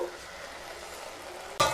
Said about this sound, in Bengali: মিশিয়ে নিয়ে রসুনগুলোকে হালকা ভেজে নেব